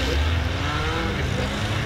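A race car engine drones loud and steady at a contact autocross survival race, holding a continuous throaty roar close by.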